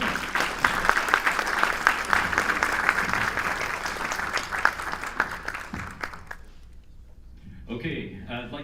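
Audience applause for a health care panel, a sustained wash of clapping from a crowd that fades out toward the end.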